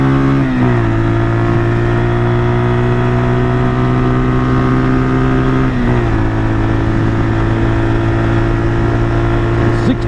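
A 1978 Kawasaki KL250 motorcycle, ridden just after a new carburetor install, drones loud and steady at high revs, holding one pitch with a couple of brief shifts, while wind rush fills the background.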